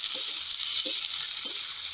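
Ginger, garlic and green chillies sautéing in a pan, a steady close sizzle with three distinct stirring scrapes spaced evenly, no voices.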